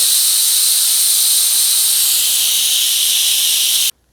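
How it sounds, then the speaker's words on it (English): Steam hisses loudly and steadily from a pressure steamer being released after cooking a cashew garlic pasta sauce, a continuous close-up rush that cuts off abruptly at the end. "Okay, so now we're going to release this steamer."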